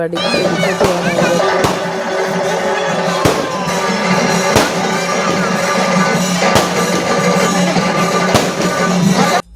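Firecrackers burst one after another at the Attukal temple festival, sharp loud bangs spaced roughly a second apart over a steady wash of crowd noise.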